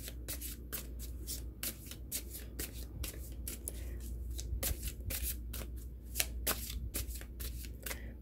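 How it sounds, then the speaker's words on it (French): Tarot cards shuffle close up, a rapid continuous series of crisp flicking riffles with an even rhythm over a low steady hum. "je vais tirer une carte pour la réponse"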